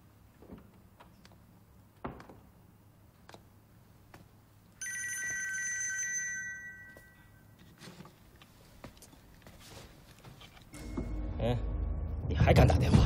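A telephone rings in a tense scene from a Chinese film: a bright electronic bell for about two seconds mid-scene, set against quiet room tone with soft knocks and a low rumble building toward the end.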